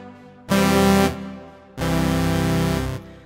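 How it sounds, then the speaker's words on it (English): A bright, sustained synth patch with Fruity Reverb added in FL Studio, played as two loud held chords: one from about half a second to just past one second, then a longer one from nearly two seconds to about three, each with a reverb tail. "I can just navigate to the delay and reverb and just add a fruity reverb to"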